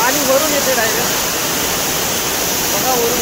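Steady, loud rushing roar of a large waterfall in a forest in Ratnagiri, Konkan, with heavy water falling from high above, continuous and close throughout.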